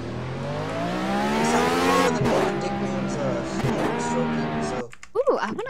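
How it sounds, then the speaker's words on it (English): Game car engines in a Roblox racing game drone and rev steadily with shifting pitch for several seconds, then cut out near the end as voices talk over them. "But the cars, guys, they sound actually pretty cool."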